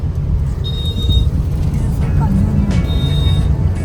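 Midday road traffic on the Eastern Express Highway in Mumbai, a continuous loud rumble of passing cars, buses and trucks close by, with a faint tonal whine from a vehicle twice.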